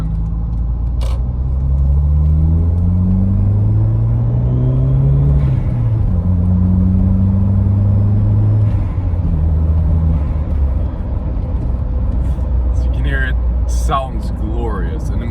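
A 1990s Volvo 940 Turbo engine pulls hard through the gears, heard from inside the cabin as a loud, steady drone that rises in pitch, drops at each shift and then climbs again, with a faint voice near the end.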